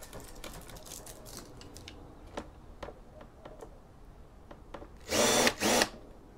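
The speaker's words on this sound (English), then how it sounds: "I'll just... undo as many screws as I see for now." Screws are backed out of an Apple iMac A1225 with a powered driver: scattered small clicks and ticks, then two short, loud whirring bursts close by near the end.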